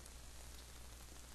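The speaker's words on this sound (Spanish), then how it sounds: "Porque está lloviendo." Rain falling in the video game The Forest, a faint, steady hiss of drops pattering on surfaces with no speech over it.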